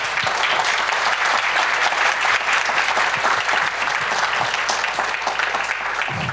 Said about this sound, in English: the applause is really important